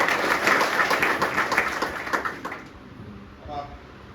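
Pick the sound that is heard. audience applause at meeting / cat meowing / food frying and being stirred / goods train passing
audience applause at meeting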